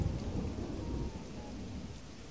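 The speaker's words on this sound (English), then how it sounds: "So it's raining." Rain and rolling thunder in the video game Animal Crossing, a dense steady downpour with a low rumble that starts loud and gradually eases, no voices.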